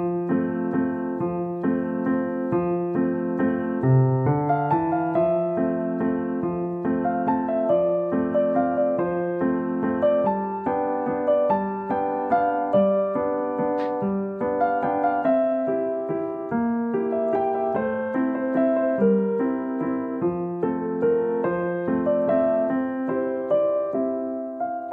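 A solo piano plays the cheerful main theme from Up in an easy arrangement at full tempo, with a steady bouncing melody over a lilting bass and a clear, moderately loud sound.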